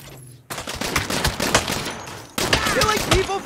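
Heavy automatic gunfire from a bigger gun in Saints Row, a dense, loud, sustained burst that begins abruptly after a quiet moment and continues with rapid repeated shots and game sounds.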